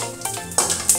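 Cumin seeds sizzle in hot oil over a low flame for an Indian tadka, a steady close crackling fry with two sharper bursts of spitting.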